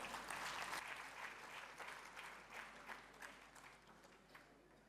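Warm applause from an audience at an award function after a music performance, strongest at the start and gradually thinning into scattered claps as it fades.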